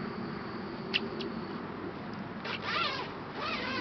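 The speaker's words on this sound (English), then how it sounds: "And zip that along as so." A quiet zipper on a mosquito net slides along in a few short, scratchy pulls against a soft background hiss.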